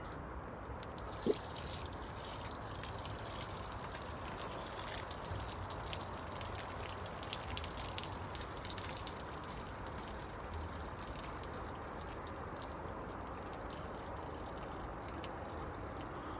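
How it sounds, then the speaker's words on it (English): Water draining right through bonsai soil, a steady soft trickling and pouring wash that holds an even level throughout with no talking, apart from one brief click near the start. "You hear how the water went right through?"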